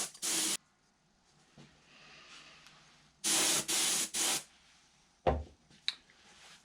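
An aerosol sprays PVA release agent onto a mold in short hissing bursts, one near the start and then three quick blasts, with a couple of knocks and clicks between them.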